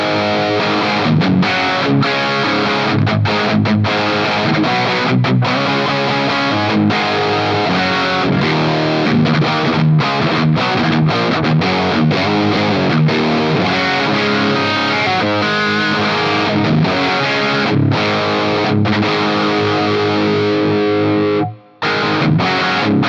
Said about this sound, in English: Gets a little bit hairy with that gain cranked all the way up, but that's kind of how a real amp would respond anyway.